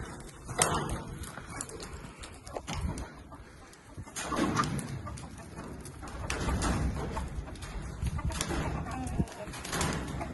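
Chickens on a small farm cluck and squawk in scattered bursts at close range as they are let out, with rustling and faint voices mixed in.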